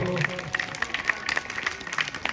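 A crowd at a Sri Ram Katha religious festival in Tilthi claps in a loose, scattered burst of applause, with voices audible underneath.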